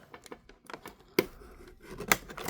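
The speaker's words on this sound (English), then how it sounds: "And then we can cut all the ties." Scissors snipping the plastic ties and tape on a Mattel Masters of the Universe Origins Stridor armored horse toy package, with a few quiet rustles and two crisp, louder cuts close by.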